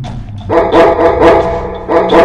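A dog barks several times in close, loud bursts with short gaps between them, with no voices.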